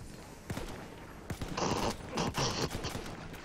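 Gunfire in Battlefield 1 crackles as bursts of rapid shots with a few sharp single reports, fairly close and moderately loud, over a busy game backdrop.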